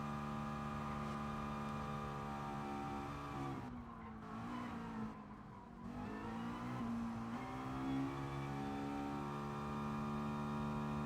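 A race car engine drones at high revs through a GT Sport race, a loud sustained whine that dips briefly as the driver lifts and shifts, then climbs again.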